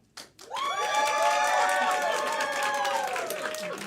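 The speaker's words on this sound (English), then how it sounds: "So, clap loudest for the person that you want to see become Bernie." A crowd bursts into sustained applause and cheering after a brief pause, loud and continuous with whoops and shouts mixed in.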